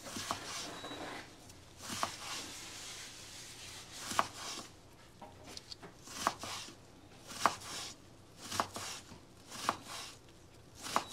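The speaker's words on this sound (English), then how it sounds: "Just cut them in the smaller pieces." Knife chopping vegetables, including jicama, into small pieces for egg rolls on a board, a series of sharp separate chops about once a second with soft scraping between, fairly quiet and close.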